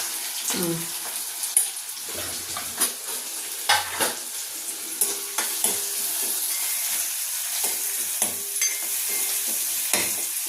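A blended onion mixture for dill greens palya fries in a pan with a steady close sizzle, punctuated by repeated scraping and clinking strokes of stirring.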